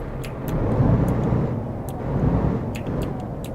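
A truck engine in Euro Truck Simulator 2 rumbling up into a steady idle, a low swelling drone with a few brief clicks over it.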